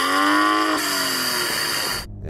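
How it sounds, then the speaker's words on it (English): Six-cylinder car engine with a full exhaust system revving hard, a loud, close, rising snarl that holds at high revs and then cuts off sharply near the end, with no talking. "So I'm going to start off by revving up my car."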